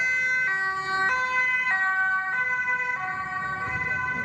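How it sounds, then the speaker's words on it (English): An ambulance siren on a city street sounds loud and clear in a two-tone alternating wail, stepping between pitches about every half second, with traffic rumble beneath and no talking. "Let's just wait for the ambulance."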